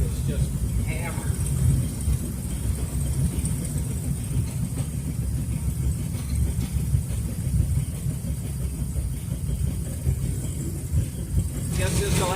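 A Ford Fairlane with a badly damaged drive shaft rumbles steadily on a shakedown run, a continuous low engine and drivetrain drone with rattling, close and sustained throughout.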